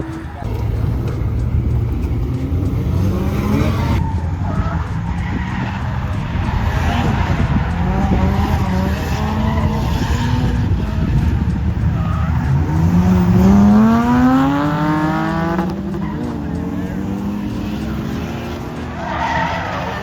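A beginner drift car on a track squeals its tires in long skids while the engine revs and climbs in pitch, loud and continuous across laps.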